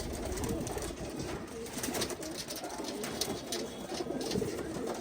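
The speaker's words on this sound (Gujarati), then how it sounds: "ક્વોલિટી તમે જોઈ રહ્યા છો કબૂતરની, એની આંખ" A red-eyed Punjabi breed pigeon from a breeding pair coos softly and repeatedly nearby, low murmuring calls over a quiet, slightly noisy background.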